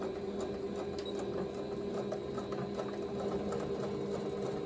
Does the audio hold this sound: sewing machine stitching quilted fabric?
yes